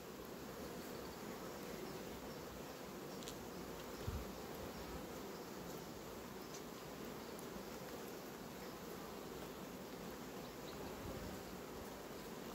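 Honey bees buzz steadily at an open hive during a colony inspection, a dense continuous drone that holds at an even level throughout, with no voices over it.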